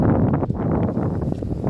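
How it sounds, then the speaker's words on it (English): Wind buffets a microphone outdoors near a downtown justice center in Fort Myers, Florida, a steady low rumble running unbroken across the whole stretch with no voices. "Sorry about the wind"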